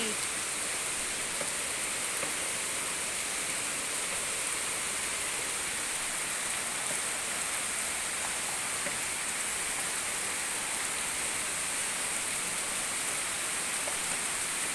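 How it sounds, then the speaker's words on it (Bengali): Heavy rain pours down steadily, a dense, loud hiss of drops hitting surfaces that holds constant throughout without letting up. "দেখুন, উফ, এত বৃষ্টি এত বৃষ্টি।"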